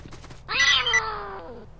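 A single cat lets out one loud, drawn-out meow, rising sharply and then trailing off over about a second, close and clear against a quiet background.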